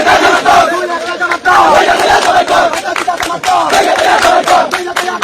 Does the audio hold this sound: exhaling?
no